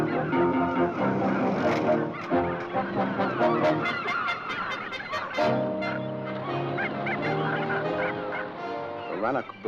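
A dense chorus of seabirds at the Rannoch Bird Sanctuary, a few miles offshore, honking and calling loudly and continuously, with many harsh overlapping cries close by.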